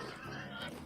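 A pig in the Vintage Story game giving a short, quiet grunting oink, heard close up and alone for under a second.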